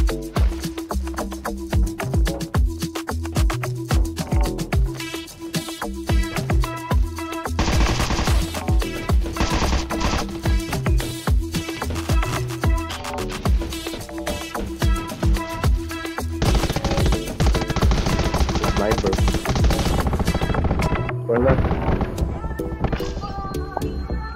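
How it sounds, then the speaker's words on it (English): Shotgun blasts mix with bursts of other gunfire in the online shooter game Undawn. The shots crack loudly and densely through a busy firefight, and players' voices talk over them. "That's a shotgun, watch out."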